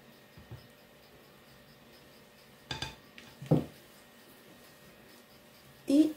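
Biscuit dough for shortbread being mixed in a bowl, heard as quiet scattered clinks and scrapes of a utensil with a few louder knocks against the dish, separated by near silence.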